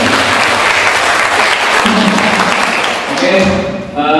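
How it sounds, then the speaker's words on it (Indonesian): At a talk in Yogyakarta, the audience breaks into loud, steady applause that runs for several seconds, with voices rising over the clapping toward the end as it fades out. "Kasih tepuk tangan."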